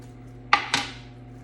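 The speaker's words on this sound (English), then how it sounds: "So I'm hoping when I cut it open, it's still gonna be decent enough to use" A knife cuts open a slightly overripe avocado on a board, two sharp close knocks about a quarter second apart, then quiet with a steady low hum beneath.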